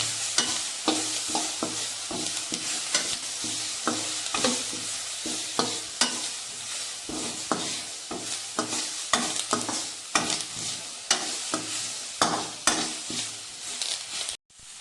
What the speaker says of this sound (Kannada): ಕೊತ್ತಂಬರಿ ಮತ್ತು ಜೀರಿಗೆ ಪೌಡರ್ ಇದೆ ಅದನ್ನು ಸ್ವಲ್ಪ ಹಾಕ್ಕೊಳ್ತೀನಿ ಸ್ವಲ್ಪ ಫ್ರೈ ಆಗಲಿಕ್ಕೆ ಬಿಡಬೇಕು